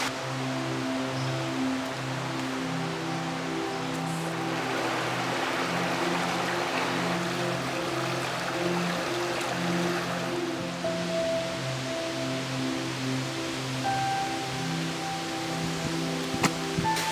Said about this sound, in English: So this is a new cascading waterfall that I haven't seen before actually here at John Bryan.